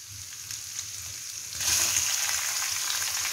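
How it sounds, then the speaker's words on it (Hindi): Chicken pieces fry in a hot pan, a steady sizzle that swells suddenly louder halfway through as the meat is stirred, with soft scraping underneath and no voices. "चिकन को बहुत ही अच्छी तरह फ्राई कर"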